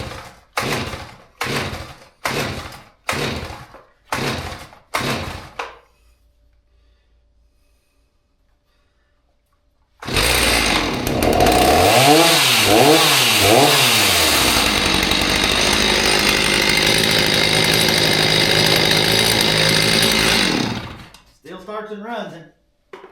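Stihl MS 290 chainsaw, a late-1990s to early-2000s model long unused, pulled several times in a steady rhythm, then firing and roaring loud and close with revving surges for about ten seconds before cutting off.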